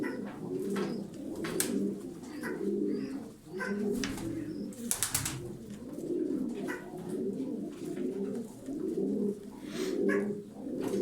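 Turkish tumbler pigeons, smoky-coloured birds, coo steadily in repeated throaty phrases that overlap one another, close and fairly loud, with a few faint chirps and no talking.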